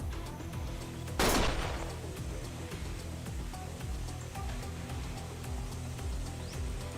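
A single sharp gunshot cracks in a Yakuza video game cutscene, then fades into a low ambient rumble with faint background sounds.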